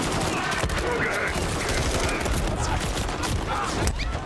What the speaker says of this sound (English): They're just shooting civs at this point.